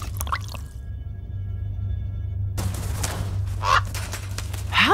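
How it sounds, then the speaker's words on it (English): A bird squawks indoors in the video game Immortals of Aveum, a few sharp, loud calls breaking through after a stretch of quiet room tone and a low steady hum. "How'd a fucking bird get in here?"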